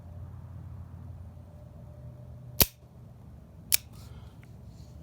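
Taurus Model 80 six-shot revolver dry-fired in single action, two sharp separate metallic clicks about a second apart, close and crisp over a low steady background hum.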